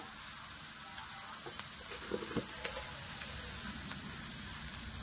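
Onions frying with salt in a pan while a spiced curd-and-aubergine dish is being cooked, a steady close sizzle with scattered crackles and soft stirring knocks, no talking.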